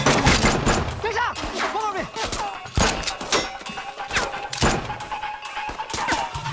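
Gunfire from a TV action scene, with bursts of shots mixed among shouting voices, engine-like noise and loud dramatic sound throughout, over which people talk and react.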